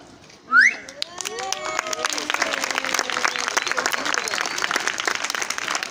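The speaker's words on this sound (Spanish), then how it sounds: "El primero para los tímidos aplausos más o menos." A rising whistle sweeps upward at the start of a street show. Scattered, modest applause from the crowd follows and keeps going steadily, with voices mixed in.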